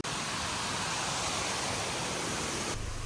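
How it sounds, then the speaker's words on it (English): The main waterfall near a village on Maewo, Vanuatu, roars as a loud, steady broadband rush close by, heard alone for about three seconds before dropping abruptly at the end. "So this is the main waterfall close to the village."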